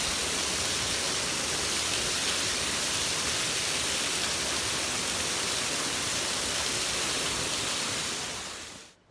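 Dense, steady rushing of an icy waterfall at an Italian thermal spa roars evenly for several seconds, a broad hiss, before fading out at the end.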